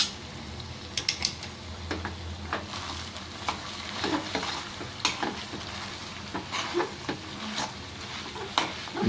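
Palak patrode mixture sizzles in hot oil in a pan while a spoon stirs and scrapes through it, with irregular close clacks over a continuous frying hiss.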